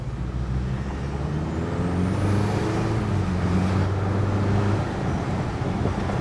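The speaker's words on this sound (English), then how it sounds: "You really hear that turbo noise." A four-cylinder turbo engine in a Chevy Colorado ZR2 Bison pulls under load, a steady low drone with a rising, whistling turbo whine sweeping upward midway, heard from inside the truck.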